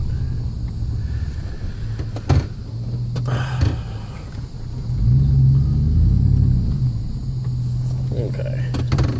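A 2006 GMC Sierra pickup with a 4L60E transmission and 35-inch tires pulling away at about 80% throttle, its low engine rumble swelling steadily louder with a brief knock near the start.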